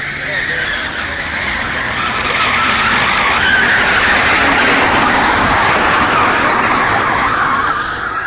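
A pro class drag race car makes its run at Indy, a loud sustained roar with hissing tire noise that swells and holds steady, heard continuously while a commentator's voice runs underneath.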